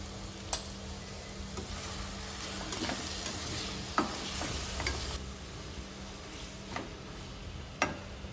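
Vegetables with salt and turmeric cook in a pan for street-style pulav, a soft steady sizzle with occasional light clicks of a spoon against the pan, fairly quiet and without talk.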